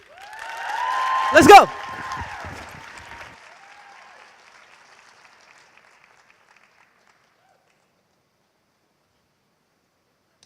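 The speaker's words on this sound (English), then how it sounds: "Round of applause, please." Audience applause for Barbara Alink at a RadGen LIVE event presented by SheEO, a loud burst of clapping and crowd noise that swells briefly and fades out within a few seconds, with a voice speaking over the start.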